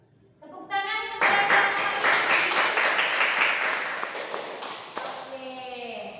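Primary school children in a classroom break into applause after a correct answer, a dense burst of clapping that begins abruptly, holds for several seconds, then fades, with a brief voice around it.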